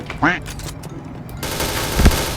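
An OA gun fires in the online shooter Point Blank, a rapid burst of automatic gunfire with a heavy shot near the end, heard over game sounds and a player's voice.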